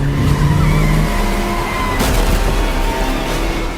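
A car skids hard during a chase scene in a film trailer, a loud tire screech with engine roar and a booming hit midway, no voices.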